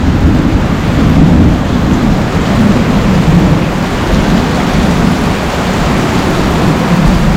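Steady heavy rain from a thunderstorm roars close by with a deep rumbling undertone, continuous and loud, no voices.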